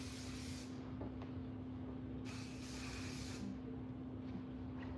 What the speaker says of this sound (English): Let's give her a nice little spray.